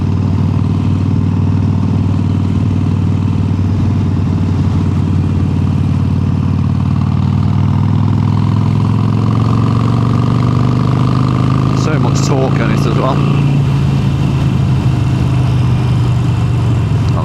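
A Harley-Davidson Sportster 883 with an upgraded exhaust drones steadily at close range, its deep engine tone holding firm and then slowly rising and falling as the revs change, with brief clattery bursts near the end.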